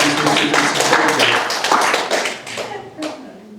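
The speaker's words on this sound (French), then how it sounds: "vous pouvez applaudir si vous voulez" A church congregation claps in response to a joke during a French-language sermon, a short burst of scattered hand claps mixed with chatter and laughter that thins out toward the end.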